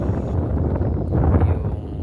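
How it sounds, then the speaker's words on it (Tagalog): Strong wind buffets the microphone at a floating cottage rental spot on the water, a steady low roar that rumbles on without pause and with no talking. "Malakas din ang hangin, mahangin dito"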